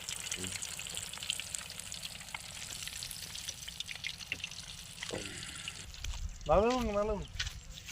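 Fish fries over an outdoor fire with a continuous crackling sizzle, while people talk in the background and a voice breaks in clearly near the end.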